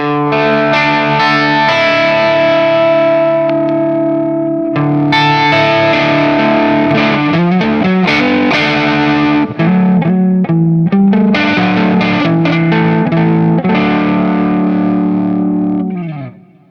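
A distorted electric guitar plays sustained chords and riffs, thick and loud with effects, continuous for the whole stretch.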